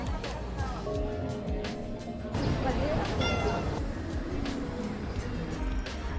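A cat meow sound effect rises over background music, with a short mewing cry near the middle sitting in a busy, continuous mix.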